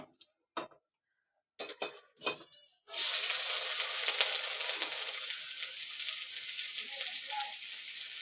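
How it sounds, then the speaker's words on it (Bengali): After a few scattered ticks and clinks over near silence, chopped garlic hits hot oil in a wok for chili chicken, bursting into a steady close sizzle that holds to the end. "প্রথমে তেলে রসুন কুচিটা দিয়ে"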